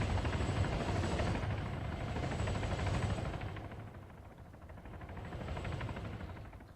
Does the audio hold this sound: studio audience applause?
no